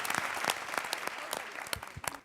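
Audience at a Bhojpuri stage show clapping, dense loud applause with sharp individual claps, sustained across the whole short stretch.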